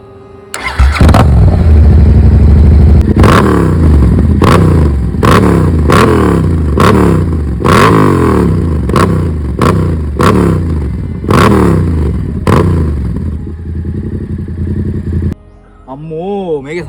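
A Yamaha MT-07 motorcycle starts up and is revved hard in a string of about nine sharp, loud throttle blips close by, then settles to idle before cutting off.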